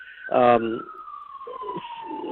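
An emergency vehicle siren wails at a distance, a sustained tone sliding slowly downward for the whole stretch while a person speaks briefly over its start.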